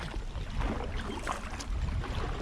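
A kayak is paddled against waves on a windy day, with a continuous low rumble of water and wind buffeting the microphone, plus faint splashing throughout.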